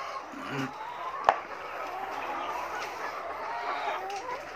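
Laying hens about 21 weeks old cluck steadily around a coop during egg collection, with a louder cackle or two standing out against a continuous, moderately close flock murmur.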